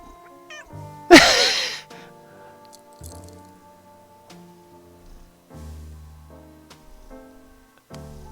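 Cat meowing in the Nancy Drew game Secret of the Old Clock, one loud sharp meow early on, followed by quieter game sounds and soft background music.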